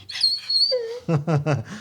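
A dog whimpers close by with a high, thin whine, then lets out three short yipping cries in quick succession.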